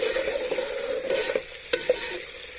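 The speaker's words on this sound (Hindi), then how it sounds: "ये हमारा गर्म हो गया, अभी डालेंगे इसमें प्याज" Onions fry in hot oil with a steady close sizzle, broken by a few sharp clinks and stirring scrapes near the end.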